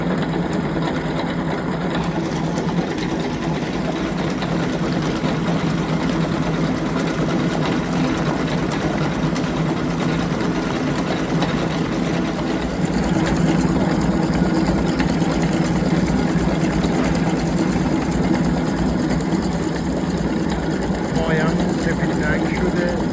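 Electric mixer running steadily at speed 3 while whipping carrot cake batter, a continuous motor whir and beater churn lasting throughout with no pauses, speech faintly present underneath.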